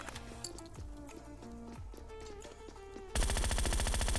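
Rapid automatic gunfire erupts loudly in the Scarfall 2.0 video game, a dense continuous burst following a stretch of busier in-game effects and background noise.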